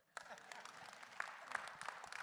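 Audience at a town hall meeting after a wildfire breaks into applause, a sudden burst of clapping that holds steady with a few louder claps, fairly faint and distant.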